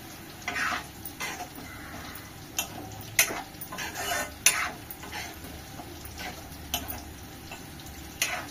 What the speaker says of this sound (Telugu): టమాటా అంతా స్మెల్, పచ్చి స్మెల్ పోయేదాకా మంచి ఇట్లా ఫ్రై చేసుకోవాలి